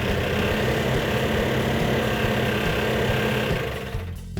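A rebuilt 340 V8 engine running rough on about six cylinders, an uneven, loping idle that drones steadily and loud, close by, with no talking, before dropping away near the end.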